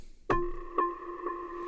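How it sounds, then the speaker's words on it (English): A soft synth pluck, a filtered sine wave with a pure, rounded tone, struck three times at an unhurried pace, each note ringing out and fading gently. "So I've made this really cute pluck that's going to go on top of these piano chords in the break."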